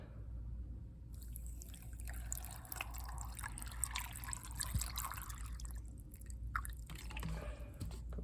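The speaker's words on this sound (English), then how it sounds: "And then we're going to add the water." Water poured into a rock tumbler barrel holding grit and Fancy Jasper stones gives a steady, faint trickle with small drips and gritty tumbling, close by over a low background hum.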